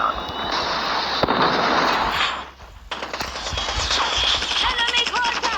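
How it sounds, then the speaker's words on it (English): A Predator missile strike lands in a Call of Duty–style Hardpoint match, with loud explosive blasts and crackling gunfire filling the scene, a brief lull midway, then renewed bursts of shots. "Friendly Predator missile inbound."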